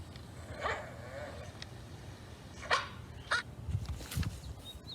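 A little pug puppy gives several short, high, yappy barks spaced irregularly over a soft background hiss, faint and somewhat distant.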